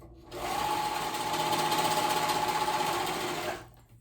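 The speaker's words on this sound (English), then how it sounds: "So I'm using a serger" A serger sews the shoulder seams of a 90s babydoll-style dress, a fast, even mechanical whir running steadily for about three seconds before spinning down.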